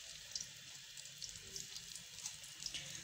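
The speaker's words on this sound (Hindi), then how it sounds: "घी जो सा है वो गर्म हो गया, तो हम लोगों ने अब जो सा चिकन है इसके अंदर वो डाल दिया।" Chicken pieces frying in hot ghee for Lahori chargha, a soft steady sizzling hiss with faint crackles and pops, quiet and continuous without talk.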